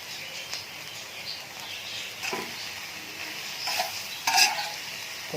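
Chopped tomatoes mixed into minced beef keema frying on a tawa: a soft, low hiss with scattered scraping and clinking stirs, quiet and close, without speech.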